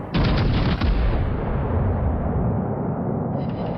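Heavy naval guns from several battleships fire together at a lone Wyoming in a naval warfare video game, giving a loud, close, booming blast that rolls into a long, rumbling decay.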